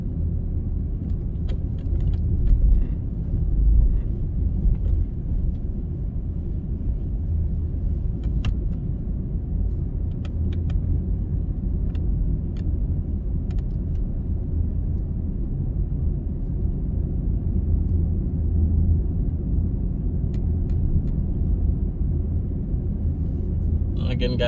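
Steady low road rumble of a car driving along a residential street on a neighbourhood drive, continuous and fairly loud throughout with a few faint light clicks on top.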